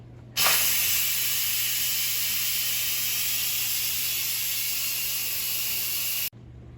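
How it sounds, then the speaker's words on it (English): An Instant Pot releases steam at full force after cooking ramen noodles, a loud, steady hiss that starts abruptly and runs for about six seconds before cutting off sharply. "Now the Instant Pot is done cooking, so let's quick release the steam."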